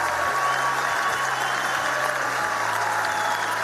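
Sustained, dense audience applause at a film premiere in Šabac, steady and enveloping for the whole stretch with no voices above it.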